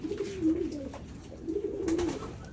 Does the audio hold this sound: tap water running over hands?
no